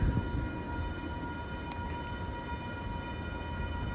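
A train passing outdoors as a steady low rumble with faint tonal hum throughout, moderately distant and fairly quiet, with no talking.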